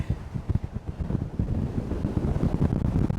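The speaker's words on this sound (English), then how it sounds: "This wind." Strong wind buffets a microphone at a lighthouse in Aruba, a loud, continuous low rumble with gusty bursts that swell and fade over a few seconds, with no voices over it.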